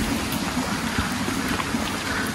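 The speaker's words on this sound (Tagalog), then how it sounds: "basang-basa po kami sa ulan" Steady heavy rain hisses and patters continuously, dense and close, with no talking, on a waterfall hike at Hagdan-Hagdan Falls in Mauban, Quezon.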